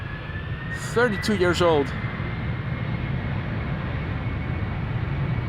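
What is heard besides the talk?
United Boeing 767-300 departing Amsterdam Schiphol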